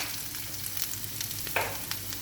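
Lentil dumplings frying in oil in a pan: a steady close sizzle and crackle with small pops and brief louder bursts of spitting oil, with no talking.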